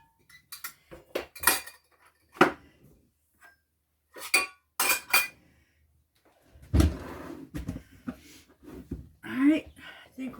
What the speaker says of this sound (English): Probably have 2 loads of dishes today.